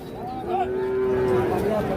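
A Sahiwal bull at a busy cattle market gives a long, steady moo that rises and holds, with faint crowd voices murmuring underneath.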